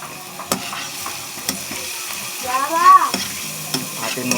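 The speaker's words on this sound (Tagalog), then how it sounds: "Atin muna siyang pag-golden brown para naman makuha natin yung lasa ng bawang at aroma niya" Chopped garlic frying in a pan for a home-cooked seafood dish in oyster sauce, giving a soft steady sizzle with a few sharp scraping stirs and utensil knocks, close and fairly quiet.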